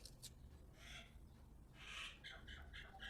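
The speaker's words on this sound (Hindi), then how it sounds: "छोटी रानी बिल्ली पक्षी की आवाज़ बाहर से सुन के चौंक रही है" Faint, quiet bird calls from outdoors, a few short chirps and squeaks repeating at a distance.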